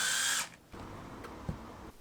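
A power tool loosens lug bolts on a BMW E36 wheel with a single loud, high whirring burst of about half a second, followed by a quieter mechanical rattle and a faint clunk.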